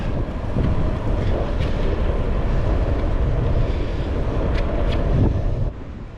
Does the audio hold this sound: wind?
yes